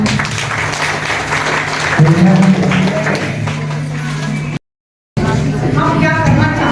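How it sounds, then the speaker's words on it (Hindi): Audience applause at a public welcome ceremony in Vishnugarh, broad steady clapping from a crowd lasting several seconds with a brief break, mixed with some voices. "सभी लोग बजाइए ताली।"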